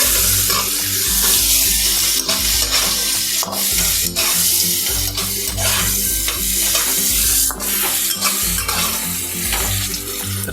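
Bitter gourd (karela) pieces fry with turmeric in hot oil while being stirred, giving a steady loud sizzle with scraping stirs throughout, and no talking.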